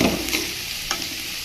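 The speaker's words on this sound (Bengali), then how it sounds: "সবজিটা ভাজতেছি। সবজির গা থেকে আস্তে আস্তে কিন্তু জল ছাড়ছে।" Carrot, turnip, beans and potato fry in a pan over low heat. A soft, steady sizzle runs with a few light stirring scrapes.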